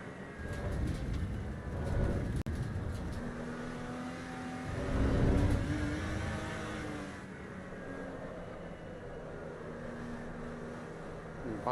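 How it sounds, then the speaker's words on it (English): A V6 car in a racing video game drives on, its engine note swelling and easing with a rough, raspy edge, steady and moderately loud with no talk over it. "It feels fairly nippy though for a V6 engine. Fairly electronic in its sound"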